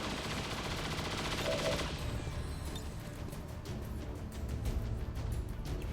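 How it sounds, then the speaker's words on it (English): Suppression fire in the XCOM 2 video game: a sustained burst of rapid gunfire with sharp repeated shots, loud and continuous for the first two seconds, then scattered impact crackles and trailing noise. "We're just gonna go ahead and load down on him with suppression fire."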